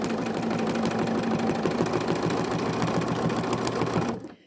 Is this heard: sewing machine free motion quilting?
yes